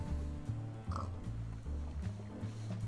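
A pig in the Minecraft video game grunting and oinking repeatedly while suffocating inside a block, low rhythmic snorts close and fairly quiet, with no talk.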